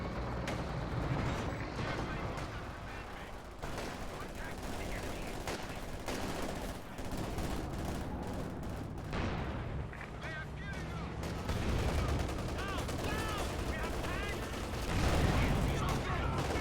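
Heavy gunfire and explosions pour onto shock troops in the World War II strategy game Company of Heroes 2, a dense, constant barrage of shots and booms that runs unbroken throughout.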